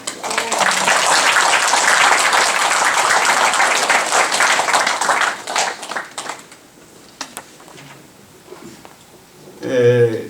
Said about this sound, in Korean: 잠깐 박수 한번 쳐주시죠.